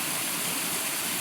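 A waterfall on the Zoar Trail in Paugussett State Park, Connecticut, stepping down a long, steep drop: a steady, dense rush of falling water, nothing else standing out.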